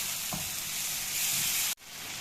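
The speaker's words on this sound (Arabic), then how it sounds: "هنقلب الطماطم مع الثومه لحد ما ايه تستوي" Chopped tomatoes and garlic sizzle steadily in a hot pan while being stirred, with a bright continuous fry and a few soft scraping knocks, close and alone.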